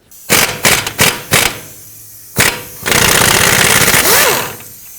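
An impact wrench with a 17mm socket removes the ball joint nut on a 2009-2015 Toyota Prius: four short loud rattling bursts, one more after a pause, then a sustained hammering run of about two seconds, close and alone.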